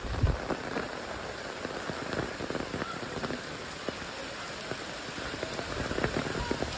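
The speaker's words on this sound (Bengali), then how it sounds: "এত বৃষ্টি হইতে আছে।" Heavy rain pours steadily during a flood that has submerged a village road near ponds, a dense, even hiss with scattered close drops hitting surfaces, continuous throughout with no voices.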